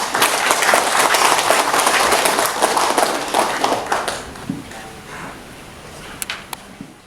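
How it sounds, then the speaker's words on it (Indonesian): Audience at a NasDem party inauguration and consolidation event in Merauke gives a loud, close round of applause that fades after about four seconds, leaving scattered claps and room noise. "Sekali lagi, mari kita beri tepuk tangan."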